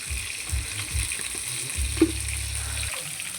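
An egg fries in a pan for a spiced egg bhuna, giving a steady close sizzle over a low hum, with one small click partway through and no talking.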